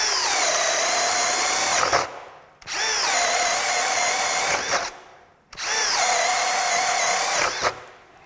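A Craftsman brushless hammer drill bores through wood in three long, steady bursts of high-pitched motor whine, each stopping abruptly before the next, close and loud with no talking.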